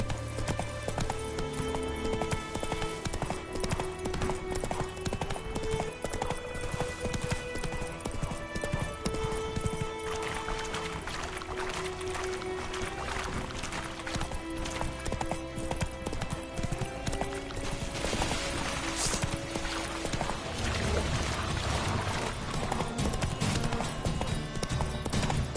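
Horse hooves clip-clop steadily in a video game, a continuous rhythmic trot set under game music and ambience, moderately loud without speech.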